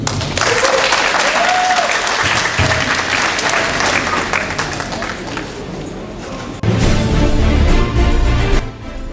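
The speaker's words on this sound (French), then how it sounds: "Applaudissez une fois de plus, mesdames et messieurs" At a university debate match, an audience breaks into sustained loud applause for the debaters, a dense wash of clapping that swells again near the end, with some voices mixed in.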